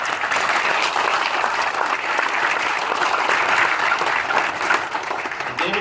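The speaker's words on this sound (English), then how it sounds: "Give her a round of applause." An audience at a cowboy hall of fame induction ceremony gives a sustained, loud round of applause, dense and even throughout, with a faint murmur of crowd under the clapping.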